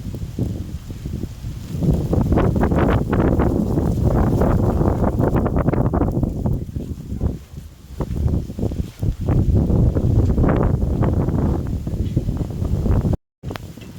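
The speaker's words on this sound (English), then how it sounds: "It's very windy" Strong wind on Mont-Royal in Montreal buffets the microphone in loud, roaring gusts that rise and fall, with a brief dropout near the end.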